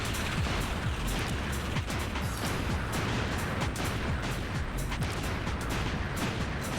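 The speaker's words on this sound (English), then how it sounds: "the fucking bombing run's so satisfying" Bombing run explosions in the N64 game Buck Bumble form a continuous loud rumble of overlapping blasts and crackling bursts, steady and dense throughout, with no talking.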